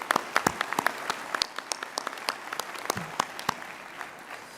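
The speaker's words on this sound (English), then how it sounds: "So I think we can give them a hand of applause." An audience at a university graduation ceremony breaks into applause, a fairly close patter of many hands clapping that stays steady before easing off slightly.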